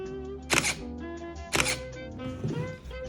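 Two sharp mechanical shutter clicks from an Olympus E-450 DSLR, about a second apart, close and crisp, over a faint steady background hum.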